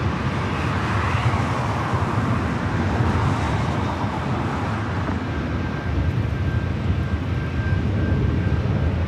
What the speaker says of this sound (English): a rare north side at takeoff for the American 777-300ER